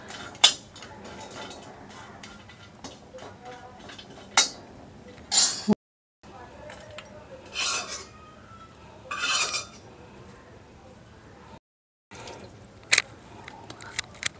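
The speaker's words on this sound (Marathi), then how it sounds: "आता हे खोबरं पण असं छान लालसर जरा भाजून घ्यायचं।" Grated coconut roasting in a pan until reddish, heard as intermittent scraping and clinking of a spatula against the metal pan, with brief louder scrapes and short silent gaps, close and without talk.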